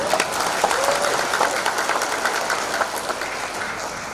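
Audience applause at a ceremony inducting the DPP IPKEMINDO board in 2018, a dense, sustained wash of clapping from a large crowd, steady throughout with no voices over it.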